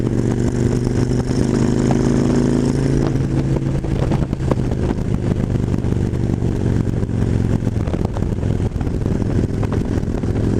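A Kawasaki Nomad 1600 touring motorcycle ridden hard through winding twisty roads, its engine droning loud and steady from close by with rushing wind and clatter throughout.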